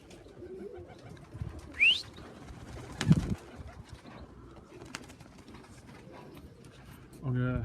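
Young birds coo softly in an outdoor aviary among scattered chirps and light rustling, with one louder burst near the end and quiet background noise throughout.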